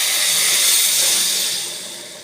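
Hot water hitting a hot khichuri pot with a stuck bottom, giving a loud, steady broadband sizzle and hiss that fades slightly toward the end.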